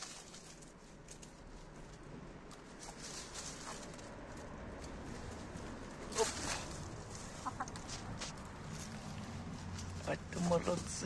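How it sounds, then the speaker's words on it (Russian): Lohmann Brown hens clucking while free-ranging outdoors on a grassy patch, soft scattered clucks over a steady background with a few louder calls near the middle and end. "Это хорошие такие курочки."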